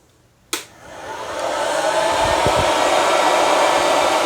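A home coffee bean roaster switched on with a click, then a loud, steady fan-like whoosh that builds over a second and holds, close and continuous with no speech.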